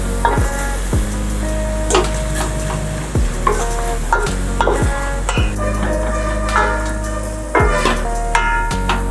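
Chicken and spice powder are stirred in a hot pan, a spoon scraping and clanking against the metal in a steady rhythm of strokes over a continuous close sizzle.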